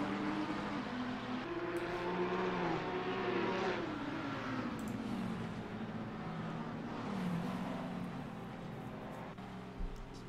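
Race cars lapping Mugello in a sim racing game, including a Haven Racing McLaren, with steady engine drone and shifting revs throughout, one car's pitch rising and falling as it runs close by.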